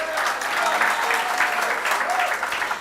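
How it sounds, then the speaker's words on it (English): Clapping at a UNC political meeting in Chaguanas, a dense, even round of applause that fills the whole moment, loud and unbroken, with faint voices beneath. "Give him a round of applause."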